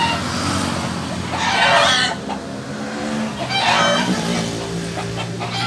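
Long-spurred fighting roosters crow twice, loud and close, over a steady background of clucking and farmyard noise.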